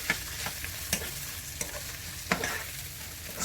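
Garlic, ginger and onions sautéing in a pan, a gentle sizzle punctuated by several sharp utensil scrapes and knocks at irregular intervals, heard up close without voices.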